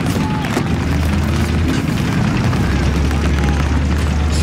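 A trigger-detonated explosion in Battlefield 3, heard as a sustained, loud low-frequency rumble and roar with heavy booming and no pauses, over the ongoing din of battle.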